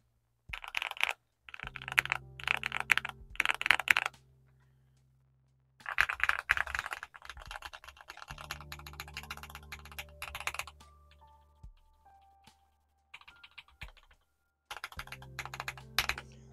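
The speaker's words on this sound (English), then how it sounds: "this keyboard sounds much livelier and much better" Typing on a Drop CSTM65 mechanical keyboard with Milky Yellow switches and aftermarket keycaps, quick bursts of crisp, clacky keystrokes separated by short pauses, recorded close in a quiet room.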